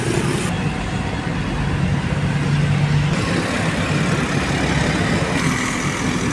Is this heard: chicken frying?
no